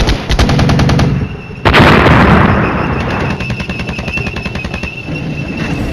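Gunfire and machine guns from the Flashpoint Campaigns strategy game rattle in dense rapid bursts, loud and continuous, with a heavy blast partway through and steady automatic fire afterward.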